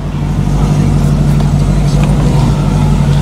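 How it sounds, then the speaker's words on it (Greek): A Mercedes-AMG car's engine runs steadily while driving, a loud, continuous low drone with a strong hum throughout and no clear revving peaks. "Λοιπόν, ξεκινάμε τη βόλτα με το Mercedes."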